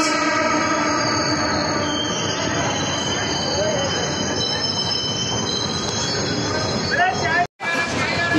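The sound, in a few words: train on the tracks at Kota Junction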